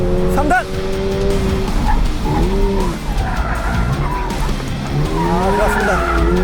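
A car spins out on track with long, wailing tire squeals rising and falling over a loud engine roar, while a person talks excitedly over the noise.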